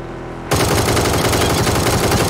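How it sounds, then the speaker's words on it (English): Automatic assault-rifle fire in PUBG, a 7.62mm weapon, bursts in abruptly after a brief quiet moment, then hammers on as a loud, rapid, continuous string of close shots. "Somebody was shooting us, though."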